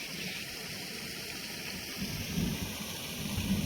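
Thunder rumbles low beneath steady broadband rain during a monsoon storm over farm fields at sowing time, swelling slightly near the end, with no voices.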